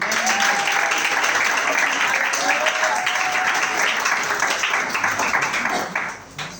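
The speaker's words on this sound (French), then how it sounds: "Est-ce qu'on peut l'acclamer?" A church congregation applauds steadily, a dense and loud wash of clapping that holds for several seconds and then fades, with faint voices and a whistle-like cheer rising through it.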